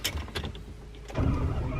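A Ferrari F12 starts up: a few light clicks and a starter whir, then the engine fires with a sudden loud, deep rumble that settles into a steady, throaty idle close by.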